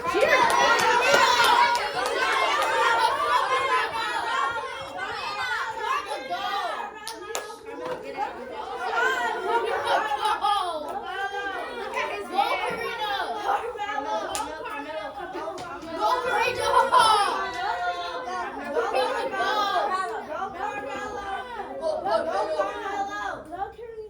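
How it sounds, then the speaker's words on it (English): A classroom of children cheers and shouts excitedly during a timed race, a loud, continuous mix of overlapping young voices with scattered claps and laughter throughout. "Keep cheering"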